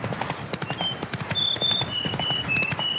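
Roach the horse in The Witcher 3 moves with quick hoof clops over a bright shimmer of tones and chimes in the background, near and fairly loud, with no voices.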